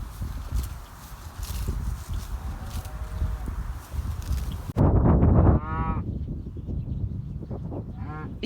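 Cattle out on a farm pasture give a loud, drawn-out moo near the middle, then lower calls follow. Around them comes outdoor rustling, hoof movement and handling noise, and no one speaks.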